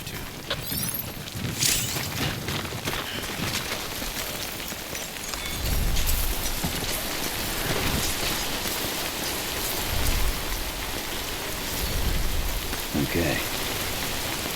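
Timefall rain falling in Death Stranding, a dense continuous hiss of raindrops on surfaces with heavier gusting swells and low rumbles, steady and close throughout.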